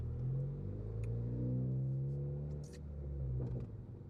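Cabin drone of a 2014 Ford Focus ST on the move, heard from inside with the windows slightly cracked: a loud, steady low engine hum whose pitch swells and dips, with a few faint clicks and wind rustle.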